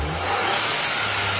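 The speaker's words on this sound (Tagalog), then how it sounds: "So, ito papa turbo check. Okay, gas." A car engine revs hard during a turbo check after a gasket repair, a loud continuous roar filling the short moment with no talking.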